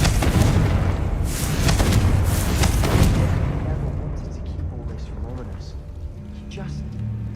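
Confringo spell blast in the video game Hogwarts Legacy: a loud booming burst with crackling debris that rolls on for a few seconds, then fades into quieter ambient game sounds and faint effects.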